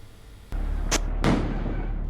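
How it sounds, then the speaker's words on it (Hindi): Fireworks bursting on Diwali night near Gaur City 2 in the Bisrakh area, heard as a few sharp cracks and thuds against a steady background rumble, one whistling pop followed by a louder boom. "जहां दिवाली की रात जब लोग आतिशबाजी कर रहे थे"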